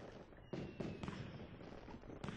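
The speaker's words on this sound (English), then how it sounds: "So there's fireworks," Fireworks in the Super Mario 3D World video game, a series of sharp bursts and crackling pops repeating at irregular intervals over a steady background, fairly loud with no talking.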